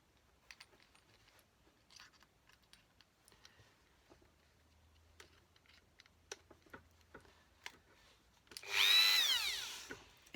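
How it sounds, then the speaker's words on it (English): Quiet scattered clicks and taps, then a loud high-pitched whine of an electric drill biting into sea glass near the end, close by. "So I'm ready to drill my sea glass, so safety goggles on."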